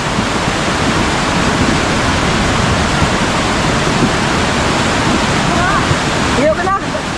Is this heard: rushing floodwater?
yes